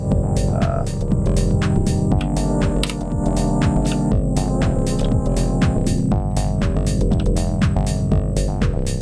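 A dense, pulsing modular synthesizer sequence with rapid rhythmic notes over a thick droning low end, loud and continuous throughout.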